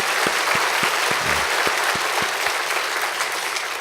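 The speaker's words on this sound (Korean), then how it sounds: "박수 한번 드리겠습니다." A church congregation at an evening revival meeting applauds, a steady wash of clapping from many hands, fairly loud and continuous, with a few sharper individual claps standing out.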